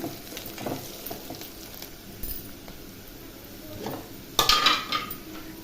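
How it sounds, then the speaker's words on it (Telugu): Ginger and shallot paste frying in a pan, a soft continuous sizzle broken by stirring scrapes and a sharp metallic clink of utensil against the pan near the end. "అల్లము, చిన్నుల్లిపాయ పేస్ట్ కూడా వేసేసాను. ఇది బాగా ఎర్రగా వేగనిద్దాం."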